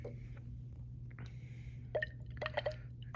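Water is added to potassium carbonate in a small container and swirled, giving a few soft drips and splashy liquid sounds over a low steady hum, faint and close.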